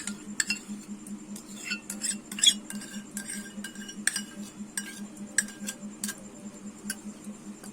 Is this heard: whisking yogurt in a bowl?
yes